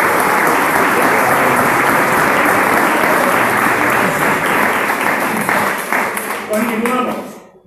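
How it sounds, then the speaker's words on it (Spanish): Loud, sustained applause from an audience at a homebrew beer contest awards ceremony, dense clapping that holds steady for several seconds and then tapers off at the end. "Un fuerte aplauso."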